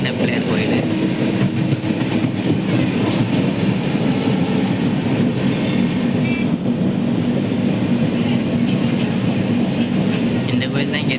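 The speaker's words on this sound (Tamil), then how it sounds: "20 வருஷம் கழித்து ஒரு எக்ஸ்பிரஸ் ட்ரெயின் நம்ம பேராவணியில் அடி எடுத்து வைக்கிது" The Pamban Express, an express passenger train, rolls along the rails at Peravurani with a continuous loud rumble and rhythmic wheel clatter, close by and steady throughout.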